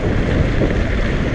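Strong, cold wind buffets the microphone during a mountain bike ride, making a steady, loud, close roar of rushing air that covers everything else.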